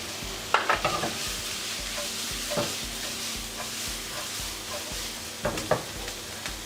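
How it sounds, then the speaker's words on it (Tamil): Chopped onion, ginger and garlic fry in hot oil with a continuous close sizzle, while a utensil stirs and scrapes the pan in irregular clicks and sharper knocks near the start and end. "இப்போது எண்ணெய் ஊற்றிடுறேன். ஓகே, எண்ணெய் சூடாகிடுச்சு. இப்போ என்ன பண்ணுறதுல வெங்காயத்தை போட்டேன், பொடியை இருக்கிற வெங்காயத்தை போட்டேன், இஞ்சி போட்டேன்,"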